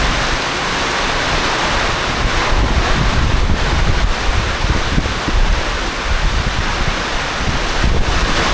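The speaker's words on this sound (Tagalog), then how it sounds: "Ang ulan na. Lakas ng hangin" Strong wind roars across the microphone in a constant, heavy rush during a rainstorm at a beach, with surf-like noise beneath it; no voices.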